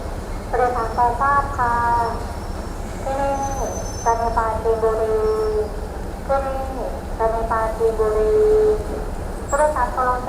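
A Kiha 183 diesel excursion train runs past with a low engine rumble, broken by repeated loud tonal blasts and whines that rise and fall over the track noise.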